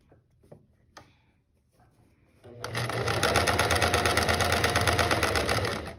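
A sewing machine stitching along the edge of a carved case bag being repurposed into a mask starts after a few light handling clicks, then runs in a steady, fast, close mechanical whir for several seconds.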